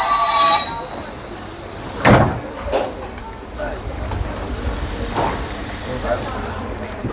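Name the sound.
old Soviet-style Elektrichka train running in Bulgaria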